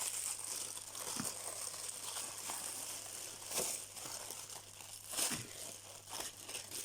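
Crinkly plastic packaging holding diamond painting accessories is unwrapped, with soft rustling broken by several sharper crackles and tearing bursts, close but quiet.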